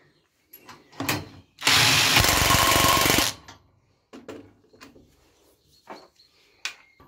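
Power tool set to 150 Nm tightening a screw, a loud sustained rattling burst of about a second and a half, preceded and followed by short clicks and mechanical clatter.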